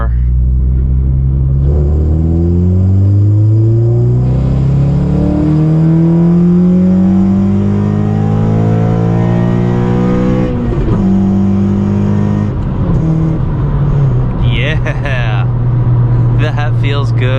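Honda Civic Si, 9th generation, e-tuned with a fresh oil change, revs hard under acceleration from inside the cabin, its engine note climbing steadily through the gears with a loud, continuous rumble and shifts near the end.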